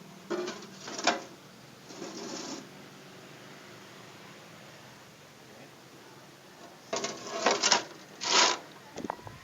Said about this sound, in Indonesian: Si kapiler ini Anda amplas supaya gampang platinum ini lengket.